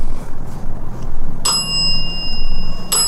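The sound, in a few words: bell ringing on a ghost-hunting device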